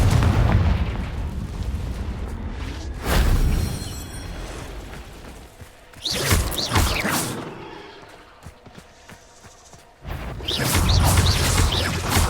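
Confringo blasting spell going off repeatedly in Hogwarts Legacy combat, several heavy explosive booms a few seconds apart, each with a sharp crackling burst and a rumbling tail.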